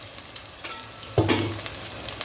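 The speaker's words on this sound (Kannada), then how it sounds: "ಸೊ ಪುದೀನ ಕೊತ್ತಂಬರಿ ಸೊಪ್ಪು ಹಾಕಿದ್ದೀನಿ. ಕಂಪ್ಲೀಟ್ ಚಂದ ಕೊರಿಯಂಡ್ರಿ ಫ್ರೈ ಆಗಲಿ." Mint, coriander leaves, ginger and garlic sizzle in a hot pan for chicken biryani, with a sharp burst of frying and stirring scrapes partway through, close and loud, no voices.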